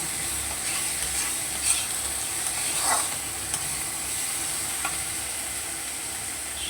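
Spice masala frying in oil for puti fish curry, a steady close sizzle with occasional soft scrapes and clinks of stirring throughout.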